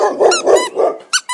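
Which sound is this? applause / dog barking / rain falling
dog barking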